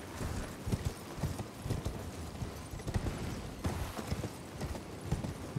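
Horse hooves clip-clopping in a steady trotting rhythm while riding in the video game Elden Ring, faint and continuous with no talk over it.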